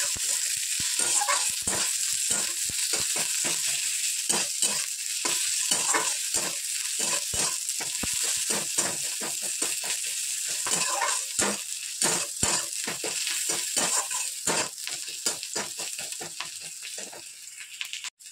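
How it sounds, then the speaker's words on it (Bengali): Onion sizzling and frying steadily in a pan for chow mein, a dense continuous crackle with frequent stirring scrapes throughout, close and fairly loud, no voices. "পেঁয়াজটা ভাজা হয়ে গেছে"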